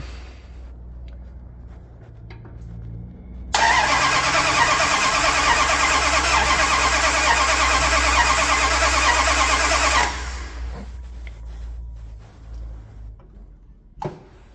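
After a quiet, rumbling lead-in, a 1978 Dodge D200 truck engine's starter, jumped at the solenoid, cranks loudly and steadily for about six seconds without starting, then stops, leaving low background noise and a brief knock.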